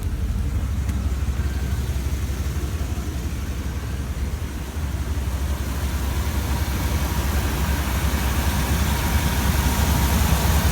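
A 1993 Dodge Roadtrek 190 van engine idles in a steady, low rumble, continuous and even throughout at close range with no talk over it.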